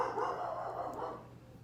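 Dogs bark and yap steadily at close range in a house, over a low background hum, with no one speaking.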